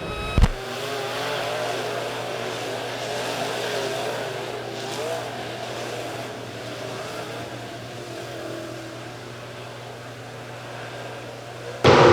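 Late model stock cars racing just after a green flag on an oval track, a dense sustained roar of several engines blending together at steady loudness for about twelve seconds, with a sharp knock at the start.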